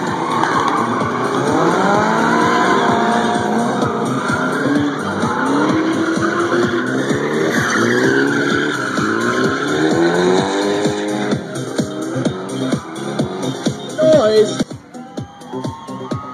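Cars drifting at the Central Florida Race Complex during a 2011 Stunt Wars drifting round: loud, continuous engine revving and screeching tire squeal that rise and fall as the cars slide past, ending in a rougher stretch.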